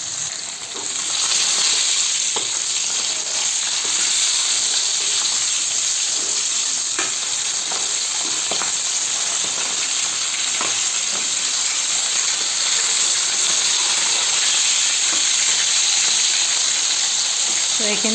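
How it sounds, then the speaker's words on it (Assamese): Fish fries in oil in a kadai, a steady loud bright sizzle that runs unbroken, with faint occasional clinks and a voice speaking quietly beneath it. "এতিয়া আগে মই মাছখিনি ফ্ৰাই কৰি লৈছোঁ"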